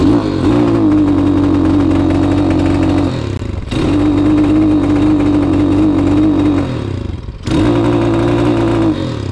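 A Pitster Pro X4 160cc pit bike engine with a bogging fault roars loudly and close on a top speed run, holding a steady drone broken by two brief dips where the revs drop off before rising again.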